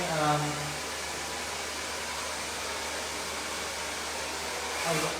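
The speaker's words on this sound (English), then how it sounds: "literally just using just normal blow dryer, nothing crazy" A normal blow dryer without a nozzle running steadily while drying hair during a bob haircut, loud continuous whooshing hum throughout, with brief speech at the start and end.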